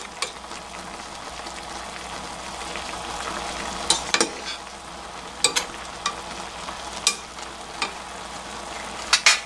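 A pot of beef and radish braise simmers uncovered over medium-high heat, a low steady bubbling hiss broken by occasional sharp clinks and scrapes as pieces are turned, with no talking.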